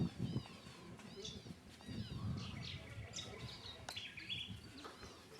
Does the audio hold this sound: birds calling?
yes